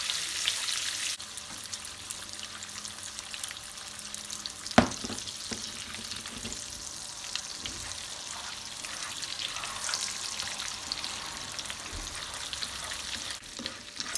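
Butter melting into fresh caramel in a pan gives off a steady, soft frying sizzle, with a few sharp clinks of a wooden spoon stirring against the pan near the middle.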